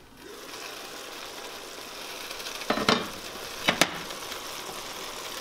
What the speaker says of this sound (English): So I'm gonna put in the mushrooms first and the carrots. And then cover the pot for a little bit and let that cook.